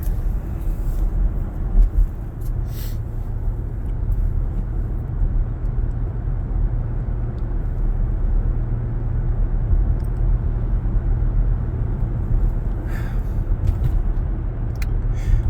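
A car drives along a road with a steady low engine and tyre rumble heard from inside, constant for about fifteen seconds with occasional faint clicks and knocks, and no talking.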